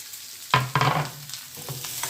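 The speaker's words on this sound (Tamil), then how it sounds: "இப்போ இந்த முதல்ல கருவேப்பிலையை போட்டு அது மேலேயே இந்த வெங்காயத்தை போட்டுவிடுங்க." Curry leaves and onions dropped into a hot pan with browned lentils for a potato fry, sharp sizzling bursts followed by steady crackling and stirring, close and loud with no talk.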